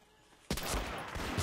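In Medal of Honor: Rising Sun, a sudden burst of rapid gunfire starts after a brief quiet moment, loud and dense, continuing as a sustained volley.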